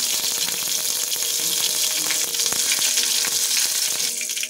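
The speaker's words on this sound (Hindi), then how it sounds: "अब मैं इसमें ये जीरा डाल दूंगी" Cumin seeds and curry leaves sizzling in hot oil for a Navratri fast thali, a steady bright crackling hiss that stays loud and close throughout.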